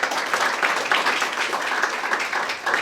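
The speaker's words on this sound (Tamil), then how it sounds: "உங்களுடைய கைகளை தட்டி கொஞ்சம் ஆரவாரம் பண்ணுங்கள்" An audience claps in welcome at a gathering, a dense, steady patter of many hands that holds evenly for a few seconds without a break.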